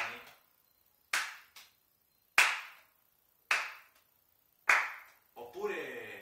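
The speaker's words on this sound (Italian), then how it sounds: "lanciare la pallina e poi battere le mani" Hands clap sharply five times, separated by pauses, between tosses of a single juggling ball at home, with a brief burst of speech after the last clap.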